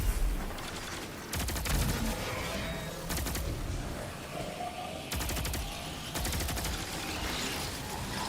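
Bursts of rapid automatic gunfire in the shooter game Destiny, four or five loud rattling volleys separated by short pauses, over a busy combat background.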